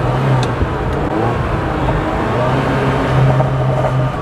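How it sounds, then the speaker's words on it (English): A 1978 Ferrari 308 GTB engine runs with an analog burble tune, a loud, steady close rumble with a low droning pulse and faint scattered pops throughout, no voices. "It burbles and pops and makes these great, you know, terrific sounding"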